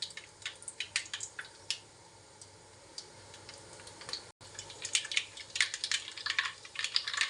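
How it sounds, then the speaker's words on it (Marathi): Mustard seeds crackle in hot oil: rapid irregular crackling and popping, crisp and close, in bursts with a short pause partway through. "मोहरी तडतडली की मग जिरे"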